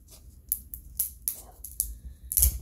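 Scissors cut open the shell of a raw sweet chestnut, a handful of sharp, close, quiet snips and clicks spaced irregularly over a low background hum, with no talking.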